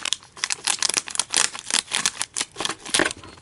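Scissors snip through a plastic package holding Traxxas steel camber links in a rapid series of crisp cuts and crinkles, close and fairly loud, with no talking.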